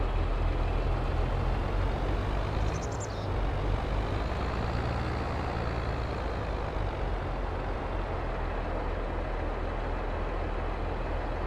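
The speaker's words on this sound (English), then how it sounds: "We're going to use the Traction King to haul this trailer into the shop" Traction King tractor hauling a trailer in Farming Simulator 22, a loud, steady low diesel engine drone that runs unbroken, with a brief high hiss near the start.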